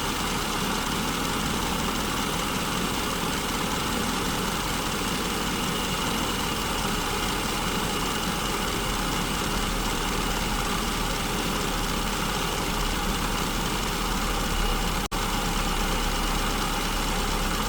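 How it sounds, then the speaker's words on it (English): Car engine with an SU carburetor idling near 1100 RPM while the mixture is leaned out, a steady dense rumble close and loud throughout, with no talking. "the engine sounds really strong. It's almost 1100 RPMs on the tachometer"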